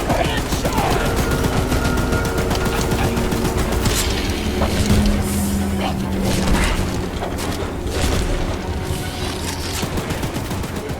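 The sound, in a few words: mounted gun firing in horror video game Choo-Choo Charles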